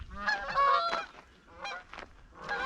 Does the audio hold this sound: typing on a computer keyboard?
no